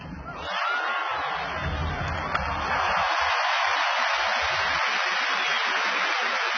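A large crowd at the 1999 Roland Garros final roars and cheers for Andre Agassi, a loud, sustained wash of voices that swells after the first second and holds steady to the end.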